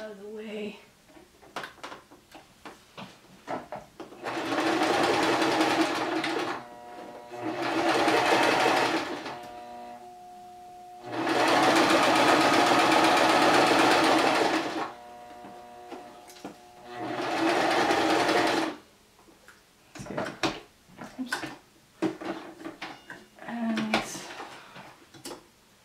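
A sewing machine stitches fabric in four sustained whirring runs of a few seconds each, separated by quieter pauses filled with fabric handling and light clicks.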